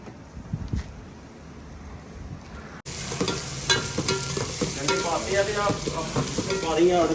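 Dal tadka frying hard in a pan during roadside cooking by truck drivers. A faint quiet opening gives way to a loud, steady crackling sizzle that continues to the end.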